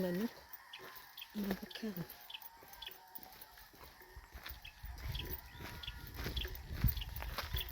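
Fighting cocks at a rooster farm in Murcia, Negros Occidental, clucking and crowing in short, scattered calls at close to middle distance, with rustling, low rumbling background and brief human voices.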